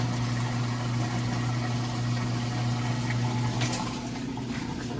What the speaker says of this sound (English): You can hear it draining out all the water.